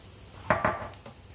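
Homemade sauce poured into a pan of stir-fry vegetables: two close, clattering knocks of utensil against the pan, then a faint tap and a low sizzle in a quiet kitchen.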